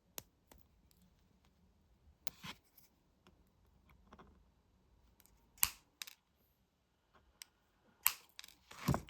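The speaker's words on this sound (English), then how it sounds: "So next we'll cut these back wires." Snips of cutters trimming back wires on a handmade jewellery pendant, a few sharp isolated clicks spaced irregularly across quiet, close and crisp, with faint handling noise between.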